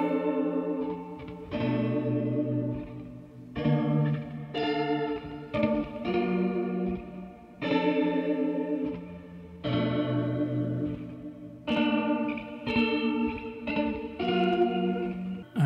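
Electric guitar played through a chorus effects unit, strummed chords ringing in repeated bursts with shimmering, slightly distorted, echoing tone, loud and close with no talking.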